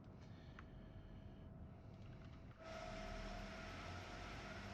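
Steady rumbling drone of an Acela Express train running on the Northeast Corridor between New York and Trenton in Train Sim World 3, its continuous cab noise swelling louder partway through, with no voices.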